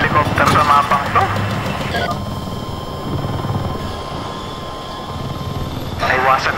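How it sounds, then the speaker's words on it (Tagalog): Helicopter flying in the video game Battlefield 6, a loud sustained rotor and engine drone running the whole time, with intermittent game effects and voices breaking in over it. "buti na lang magaling tayong magpalipad ng helicopter"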